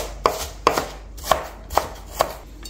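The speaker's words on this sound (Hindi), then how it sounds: "छोटा छोटा चॉप कर लेंगे ताकि इसको गलने में आसानी हो जाए।" Food being chopped into small pieces for aloo gosht, with five sharp knife strikes on a cutting board at uneven intervals, close and clear with no talking.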